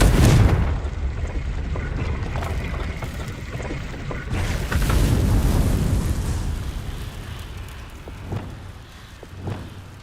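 Fiery Confringo spell blasts from the video game Hogwarts Legacy: a loud, rumbling explosion at the start, a second heavy burst a few seconds later, then sharper cracks fading out.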